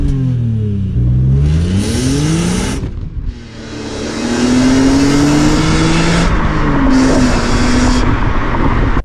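Nissan GT-R converted from a GTT, its engine revving hard with a deep, loud exhaust note that climbs and falls in pitch through several surges, heard up close with no talk.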